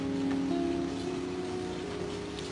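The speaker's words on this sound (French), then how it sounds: "Ah, mais il pleut trop aujourd'hui." Steady rainfall hisses evenly throughout, a constant soft patter with a low hum beneath it and no voices.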